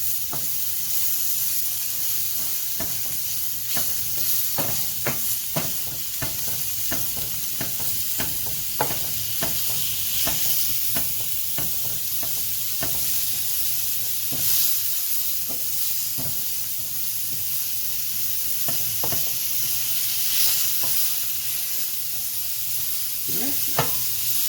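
A pound of sausage fries in a pan with a constant close sizzle, and a steady run of scraping and clicking stirs throughout, with no voices.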